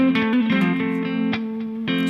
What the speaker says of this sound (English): a scale run combined with an arpeggio might sound something like this